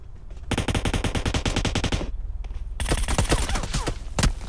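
Automatic gunfire in the mobile game PUBG Mobile: long rapid bursts of close, loud shots, a short pause, then another dense volley with sharp individual cracks, no talking.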